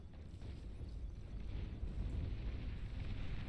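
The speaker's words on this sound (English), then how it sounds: "Bombing run." Distant bombing run in the strategy game Beyond All Reason, heard as a steady low rumble of muffled explosions rolling on without pause, faint and far off.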